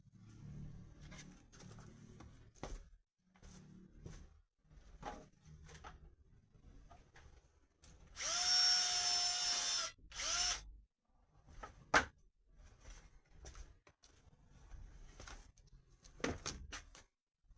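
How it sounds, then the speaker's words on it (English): A power drill boring a hole through wood whines steadily for about two seconds, loud and close, amid scattered workshop knocks and clatter before and after. "So I'm going to drill a hole through the middle."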